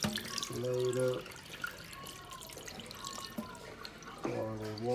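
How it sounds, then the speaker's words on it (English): Water is poured out of a container holding freshly caught fish, a steady splashing and trickling stream running throughout, with two short bursts of voice partly over it. "Pour all the water out so I can see them."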